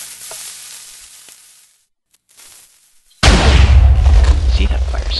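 Minecraft cannon firing in a video game: a brief quiet stretch with faint game sounds, then a sudden loud booming blast with a roaring, crackling tail that carries on to the end.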